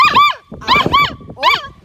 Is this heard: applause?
no